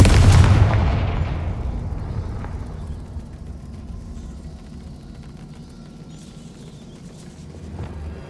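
A Confringo spell explodes in Hogwarts Legacy with a loud, deep boom that rolls off into a fading rumble, and a smaller thud follows near the end.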